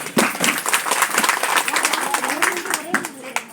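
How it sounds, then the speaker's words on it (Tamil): An audience claps together at a Tamil stage-actors' association gathering in Pudukkottai, a steady burst of applause close by, with a voice speaking over it toward the end. "எல்லாம் சோறாக ஒரு தடவை கைதட்டுங்கள்"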